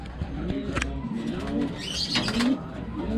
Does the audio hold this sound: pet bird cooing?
yes